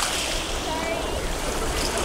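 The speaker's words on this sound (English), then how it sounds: "Alright, watch out for those waves." Ocean waves wash steadily onto a beach where toy construction trucks dig in shelly soil, a continuous broadband surf hiss close by with no distinct breaks.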